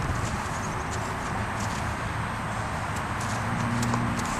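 Steady clip-clop of hooves as a horse walks at an even pace, close by, over a constant low background hum.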